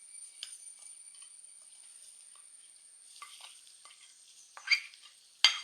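Chicken pieces tumble into a hot pan already holding curry leaves, for a rice-flour chicken dish. A soft, steady sizzle and stirring run throughout, with two sharper, louder bursts of spattering near the end.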